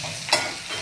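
Tempering for dhokla fries in a hot pan, giving off a steady broadband sizzle with a brief louder crackle partway through, close and without any talk.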